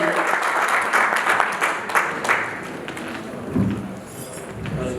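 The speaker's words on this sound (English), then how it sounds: "So please give a huge round of applause." An audience claps steadily for a guest introduced as a Consul General at a community meet-and-greet, a dense wash of applause lasting throughout, with a voice briefly cutting in near the end.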